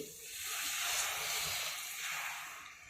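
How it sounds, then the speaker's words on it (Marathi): Hot water poured into a pan of hot rajma gravy sends up a loud, steady hiss of steam and spatter. The sizzle holds for about three seconds with no voices over it. "त्याच्यानंतर याच्यामध्ये गरम पाणी टाकून घेत आहे मी."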